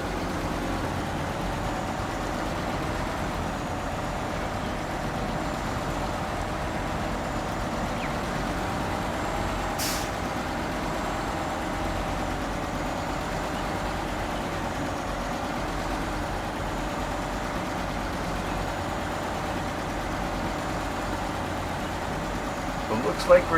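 Off-road truck engine in a video game labouring uphill at Costa Atardecer, Chiapas, a steady low drone that holds throughout with someone speaking over it.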